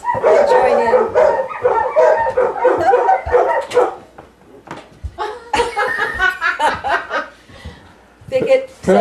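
Dogs bark and howl outdoors in response to coyotes. The loud, close bursts of barking come in two main waves, with people laughing and talking over them.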